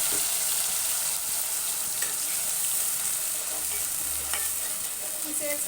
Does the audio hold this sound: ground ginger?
yes